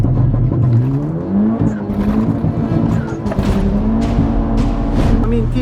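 A Lada fitted with a boosted Toyota 1NZ engine revs loud and close, its engine note rising and falling in sweeping pulls for several seconds without a break.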